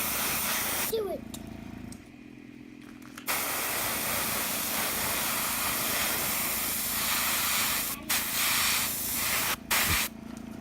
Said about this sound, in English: It's really fun airbrushing them with body paint.